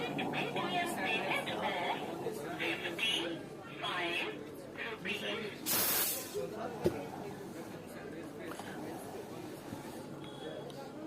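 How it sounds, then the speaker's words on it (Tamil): Steam wand heating milk for coffee at a tea shop, giving a loud hissing burst that rises for a moment and then fades, under nearly constant talk and background chatter. "இப்போ பாலை ஊற்றி அதையும் ஹீட் பண்ணுறாரு."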